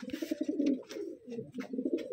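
Several pigeons coo steadily close by in low, throaty rolling calls as they are packed into boxes, with light rustling and knocks over the cooing.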